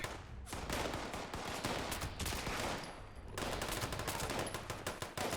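Repeated gunfire in Fallout 76 is heard as a dense, continuous stream of loud shots, with brief pauses between bursts.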